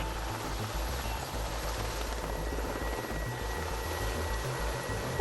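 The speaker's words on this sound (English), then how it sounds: "Our helicopters are here to provide any assistance required" Continuous rhythmic thudding of a helicopter's rotor with a steady engine whine, heard alone at moderate volume.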